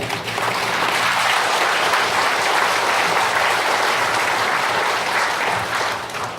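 A crowd at a Senior Citizens' Day event held by a Daejeon Dong-gu branch applauds local council members, a thick, sustained wall of clapping that stays loud and even for over six seconds and eases slightly at the end, with no talk.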